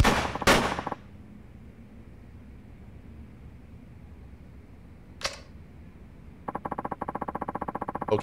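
Gunfire rings out in the video game Yakuza 4: a sharp shot at the start and another near the middle, then a rapid, evenly spaced burst of automatic fire near the end, with quiet room tone in between.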